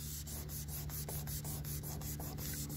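Steady back-and-forth hand sanding on the door of a 1978 Chevy C10 pickup truck, a continuous close rasping rub with regular strokes about every quarter second and a low hum underneath.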